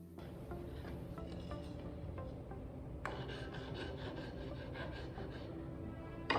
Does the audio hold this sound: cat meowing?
no